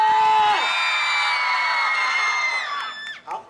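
A crowd of students at a graduation-trip evening party lets out sustained, loud screaming cheers that tail off after a few seconds.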